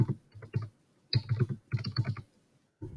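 Typing on a computer keyboard, with bursts of rapid key clicks separated by short pauses, close and fairly clear with no talking.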